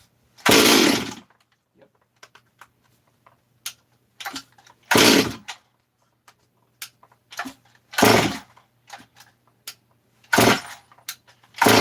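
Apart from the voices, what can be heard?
Stihl 440/460 hybrid chainsaw engine starting after fuel shot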